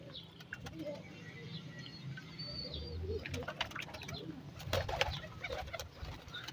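Several pigeons coo softly nearby at water amid faint wing flutters and light tapping sounds, a low murmuring chorus without speech.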